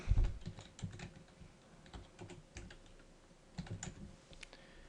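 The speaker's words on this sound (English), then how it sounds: "I would suggest typing in the actual server name." Rapid clicking of a computer keyboard as a server name is typed, a steady run of close, crisp keystrokes with a few louder taps and no talking.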